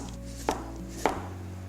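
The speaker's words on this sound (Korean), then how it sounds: "다음은 당근을 썰겠습니다" A knife chops carrots on a cutting board, two crisp separate strikes against a steady low kitchen hum.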